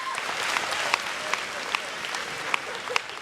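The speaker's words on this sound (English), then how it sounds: "clap your hands if you grew up in church" Audience in a church-themed comedy show claps hands together, a broad wash of applause with a few sharper individual claps standing out near the front, while a voice speaks over it.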